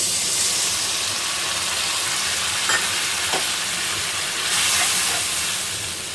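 Water poured into hot spice paste in a pan sets off a loud, steady hissing sizzle that fills the space close by and swells briefly near the end.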